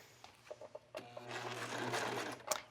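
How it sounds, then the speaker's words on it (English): A serger runs along the waistband seam of a tulle skirt with elastic, giving a few short stitching bursts and then one sustained run, close and moderately loud. "I just sew the waistband together by serging along there"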